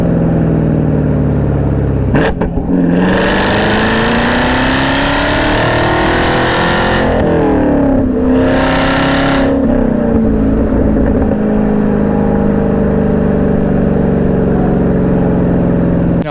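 A 2023 Chevrolet Camaro ZL1 with a new exhaust rumbles at idle, then snarls into two loud, rising revs that fall away each time before settling back into a deep, steady idle burble.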